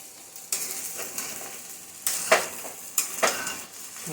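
Sabudana khichdi is roasted and stirred in a pan: a close, crisp sizzle broken by several sharp scraping strokes of a spoon, each flaring loud for a moment before settling back, with no voices.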